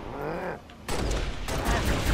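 Gunfire in the video game Halo: Reach, a burst of loud shots breaking in after a brief lull, then continuing as dense, harsh firing to the end.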